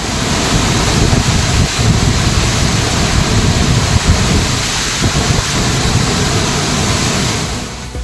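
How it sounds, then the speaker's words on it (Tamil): The Manimuthar waterfall in Tirunelveli district in heavy flood gives a loud, dense, steady roar of gushing water that fills the whole stretch without pause. "நெல்லை மாவட்டம் மணிமுத்தாறு அருவியில் பெருக்கெடுத்து ஓடும் தண்ணீர்"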